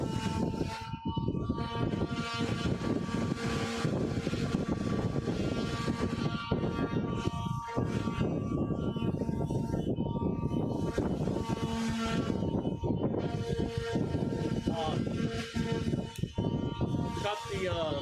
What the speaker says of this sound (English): Cut the sander for a second.